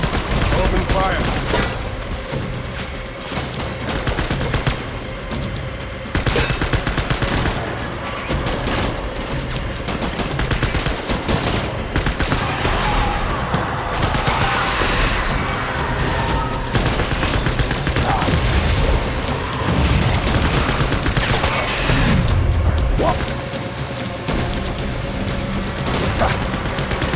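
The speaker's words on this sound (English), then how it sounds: "Open fire." Gunfire in the video game Death Stranding, dense, continuous bursts of automatic shots and booms that keep up throughout, loud and close, with voices now and then underneath.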